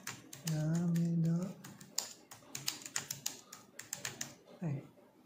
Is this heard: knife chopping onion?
no